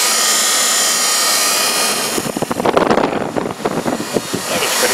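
An electric motor drives a fan, starting as a steady whir and then breaking into a loud, turbulent rush of air with gusty buffeting close to the microphone.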